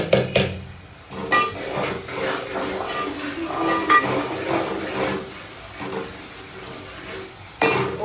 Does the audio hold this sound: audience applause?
no